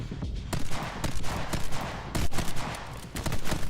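Rapid bursts of gunfire from My Friend Pedro crackle in a steady, loud stream of closely spaced shots, with brief pauses between volleys.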